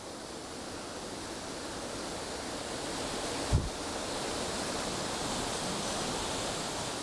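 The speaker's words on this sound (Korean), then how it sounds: "온천수가 저렇게 품어져 올라오고 있어요." Hot spring water gushes up like a fountain at a volcanic geology site in Yunnan, a steady, dense rushing roar that holds constant throughout, with one brief low thump near the middle.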